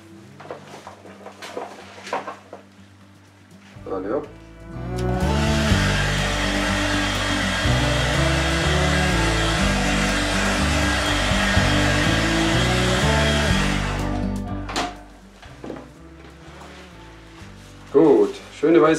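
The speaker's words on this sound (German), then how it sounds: "Ich werde jetzt aber kurz mit dem Föhn drüber," A hair dryer blows over freshly poured fluid art paint to clear air bubbles, switching on with a loud steady whoosh for about ten seconds before cutting off, with quiet handling noises before and after.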